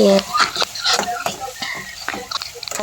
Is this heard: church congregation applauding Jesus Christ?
no